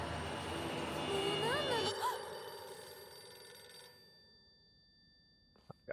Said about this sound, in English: God, the phone's ringing.